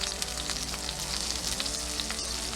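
A New York strip steak sears in a hot pan, giving a loud, steady, close sizzle and crackle with no talk over it.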